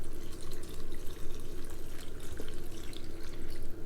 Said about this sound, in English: And you can add the water in.